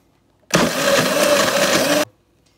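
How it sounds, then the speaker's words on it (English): A kitchen blender whirs loudly as it blends sorrel with a cup of water, running steadily for about a second and a half with an abrupt start and stop. "So in my blender, I add 1 cup of water. We're gonna add our sorrel,"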